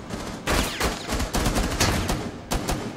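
Gunfire in the video game Rainbow Six Siege, loud close bursts of rapid automatic fire in several rattling volleys separated by short gaps, with no talk over them.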